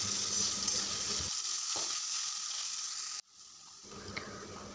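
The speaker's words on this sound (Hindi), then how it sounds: "अब आलू को चलाते हुए थोड़ी देर फ्राई कर लेंगे।" Small washed potato pieces fry and get stirred in a pan, giving a steady hiss that drops away abruptly partway through and then returns more quietly.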